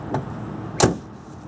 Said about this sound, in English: Just listen to the way the doors close in a Rolls-Royce.